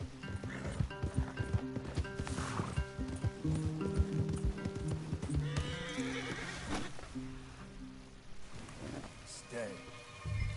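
Horses in the video game Red Dead Redemption 2 whinny and clop their hooves close by, with several neighs and irregular hoof steps mixed with shifting ambient sounds and voices talking.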